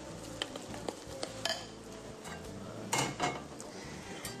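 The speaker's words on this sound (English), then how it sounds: "So the next thing we're going to do is whack them in the pan" Pancake batter goes into a frying pan in a home kitchen, with utensil clinks and clatter against the pan and a faint sizzle in between, close and fairly busy throughout.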